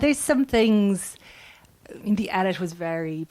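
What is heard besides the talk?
None of the usual background noises is heard.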